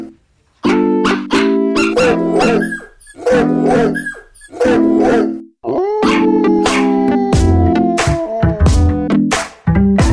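Dogs in Sekiro: Shadows Die Twice bark loudly and repeatedly in quick bursts, several barks overlapping with whimpers and yips, close and clear without speech.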